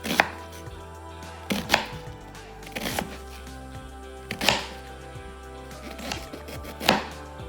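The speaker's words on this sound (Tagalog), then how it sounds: "When you slice the potato, after you slice, soak in the water" A knife chops through potatoes on a board, with sharp, separate thunks falling at uneven intervals about a second or more apart. The cuts sound close and fairly loud, and nobody speaks.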